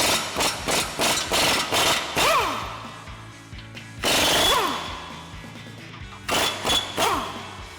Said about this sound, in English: grab our 21 mil socket on our impact and go ahead and remove our mounting nuts for our U-bolts